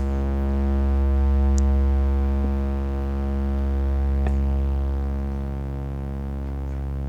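A sustained low tone from a Soma Lyra-4 synthesizer, set to a long release, hums steadily with a slow swell and gentle fade, a couple of faint clicks passing over it.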